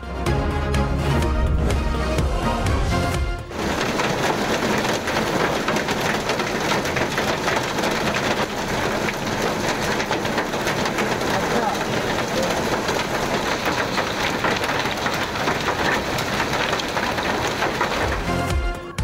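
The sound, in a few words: heavy rain with thunder and hail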